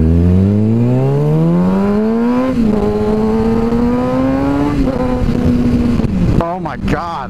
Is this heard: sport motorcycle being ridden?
yes